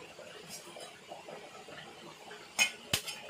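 Eggs are cracked against a pan's edge and poured in while cooking Tamil-style cabbage poriyal; two sharp, close clinks land near the end after a stretch of quiet kitchen bumps.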